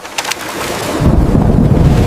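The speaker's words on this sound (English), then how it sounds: "heavy raindrops started to fall" A dense, steady roar of heavy rain falling on a garden that swells and thickens after a moment, with a couple of faint bird chirps at the start.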